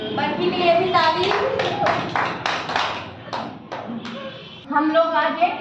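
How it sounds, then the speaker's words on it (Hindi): Children in a classroom clap their hands in a string of sharp, rapid claps, with an adult teacher's voice speaking over and between the bursts. "बर्फी के लिए भी ताली"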